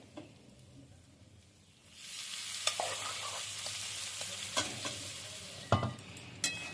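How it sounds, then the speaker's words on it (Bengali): Boiled dal is poured into fried spices in a pan for dhaba-style tadka dal, setting off a sudden loud, steady sizzle, then scraping stirs and occasional utensil knocks, close and without talk. "এবার আমি ভেজে রাখা মশলার সঙ্গে এটা মিশিয়ে দিচ্ছি"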